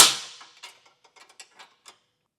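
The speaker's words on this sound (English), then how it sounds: "we'll tighten down our front bolts with a 15mm socket and wrench" Bolts on a Blue Ox base plate kit being tightened on a 2025 Chevrolet Trax with a 15mm socket and wrench: one metallic clank, then a string of small, quiet ratchet ticks and clicks at an irregular pace.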